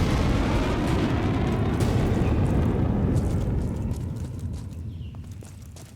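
Artillery rounds strike during a jungle special-operations raid, a continuous heavy rumbling roar of explosions rolling together, then slowly fading and thinning out toward the end.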